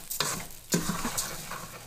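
Garlic sautéing in a pan while preparing fish moqueca, with a soft continuous sizzle broken by a few close, brisk scraping stirs of a utensil against the pan.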